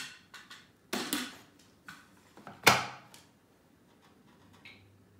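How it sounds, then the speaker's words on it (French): A blender lid and measuring cup being fitted and twisted tight, giving a few sharp plastic clicks and knocks with short pauses between, close and fairly loud. "Serrer le couvercle et le gobelet doseur."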